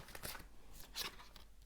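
Tarot cards being shuffled by hand, giving a few quiet, brief riffling and sliding bursts close by in an otherwise hushed room.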